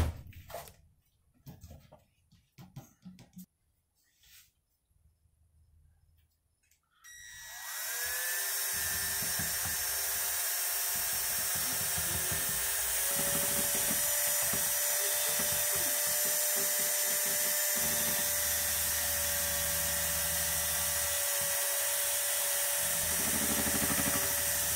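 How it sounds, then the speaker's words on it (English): After a few quiet seconds of faint handling noise, a power drill spins up and runs steadily at high speed, stirring two-part 1-to-1 epoxy resin for a bathroom sink pour, with a constant loud whine and no talking. "When you mix it with your drill, make sure you hold on to the container."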